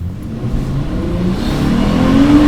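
A 2021 Lexus IS350 accelerates with a mid-pitched engine note that rises steadily in pitch and grows louder over a couple of seconds, heard alone with no talking.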